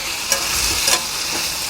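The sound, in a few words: taro pieces frying in hot oil with turmeric and salt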